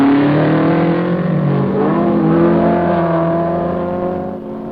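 Ford Mustang Group 2 modified race car in the over-2-litre class, its big engine roaring steadily and loudly through a 1972 Knox Mountain hill climb run in Kelowna, tone shifting as it climbs and fading slightly at the end.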